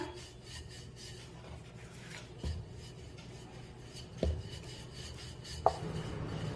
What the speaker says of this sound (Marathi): थेपला खूप जाड लाटायचं नाही तर थोडंसं पातळच लाटून घ्यायचा